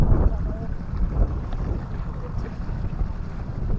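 Loud, steady wind gusts buffet the microphone over the low rumble of a boat moving on water.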